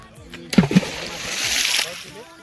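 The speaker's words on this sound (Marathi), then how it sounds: "दगड जरी मारला ना तर पुरा आवाज येते." A stone thrown into deep jungle water lands with a sharp, close splash, followed by a second slap and a couple of seconds of fading sloshing.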